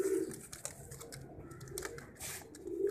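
Soft pigeon coos sound close by, mixed with light rustling and clicking noises, with no talking.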